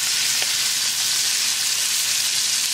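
Lamb chops sizzle steadily in a hot pan, a continuous bright frying hiss that stays even and close throughout with no voices.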